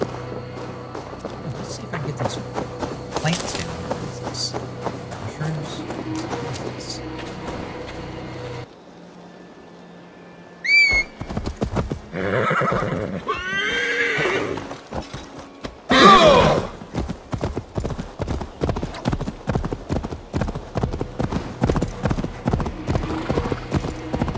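Horse in the video game Assassin's Creed Valhalla, clip-clop hooves walking then trotting in a steady rhythm, with a brief whinny and some game mechanism clatter, loud and close throughout.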